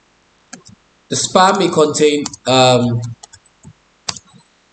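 Computer keyboard typing comes through as scattered soft clicks before, between and after stretches of a person speaking close by, the keystrokes light and irregular.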